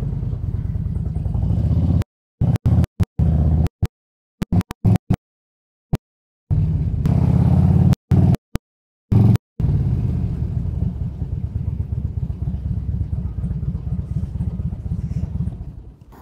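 Harley-Davidson motorcycle engine on a test ride: a steady low rumbling drone, loud and close, broken by several abrupt dropouts midway before the continuous idle-like rumble resumes to the end.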